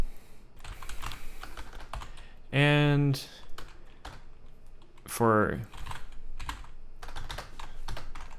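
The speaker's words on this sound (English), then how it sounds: "I'm fucking going senile and typing words as I say them." Typing on a computer keyboard clicks in quick irregular bursts, close and crisp, while someone talks intermittently over the keystrokes.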